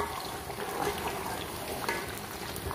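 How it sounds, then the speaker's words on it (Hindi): Onion rings sautéing in a pan for chicken handi, giving a steady, close sizzle and crackle of frying with no speech. "जनाब प्याज जो है वो हम कर रहे हैं सौते"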